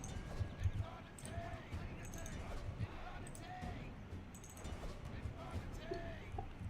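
Horse archers' hooves in the medieval strategy game Chivalry Total War, a muffled clip-clop of galloping under battle noise with brief metallic clinks, fairly faint, while a voice talks over it.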